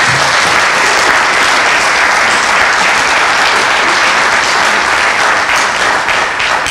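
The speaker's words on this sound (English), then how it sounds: "Please join me in a round of applause for the people on stage." A full auditorium audience applauds after a school board debate, a loud, steady, dense wash of clapping that holds at one level throughout with no talking over it.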